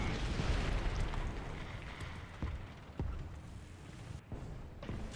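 A Churchill tank's rapid-fire gun in a War Thunder battle gives several dull thumping shots spread through a steady, loud rumble of engine and battle noise.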